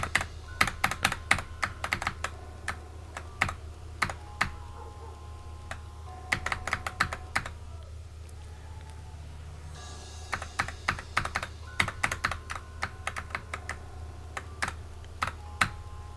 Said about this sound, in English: I swear to God, I'm clicking.